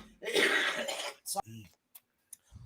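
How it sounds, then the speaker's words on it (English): Someone coughs once, a rough breathy burst, followed by a few brief throaty voice sounds. "little bit of cough."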